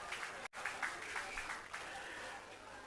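Clapping from an audience at a live event, a dense, steady spread of applause with a brief dropout early on, lasting a few seconds with no clear speech.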